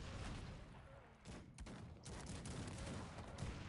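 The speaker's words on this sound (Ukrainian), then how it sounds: "Ах, як насипає мені боляче гарматами своїми." Cannon fire from a large Cossacks 3 ranked battle between Ukraine and England, a dense, continuous barrage of booming shots and musket crackle overlapping throughout, loud and busy with no pauses.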